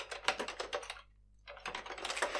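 Quick, soft keystrokes on a computer keyboard type text into an input dialog in two short bursts separated by a brief pause, close and quiet.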